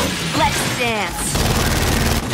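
A Gears 5 gunner weapon fires in Horde mode on Blood Drive as a thick, continuous rumble of heavy shots blending with crashes. A voice talks over the opening part.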